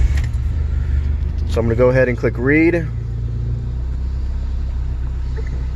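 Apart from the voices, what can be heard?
car engine started and running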